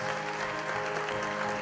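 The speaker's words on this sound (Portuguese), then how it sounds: "Uma salva de palmas para elas" A church congregation applauds people who have chosen to be baptized, a dense, steady wash of clapping from many hands filling the room without a break.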